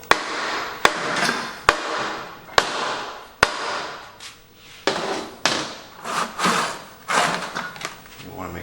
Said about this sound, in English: Get some pressure on it, hit the bolt, and that's how you get it off.